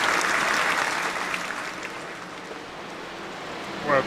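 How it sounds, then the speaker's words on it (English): A few people clap at a race caution during an SRU Truck Series stream, a soft patter of hands that slowly thins out, with a brief voice near the end. "That deserves a clap."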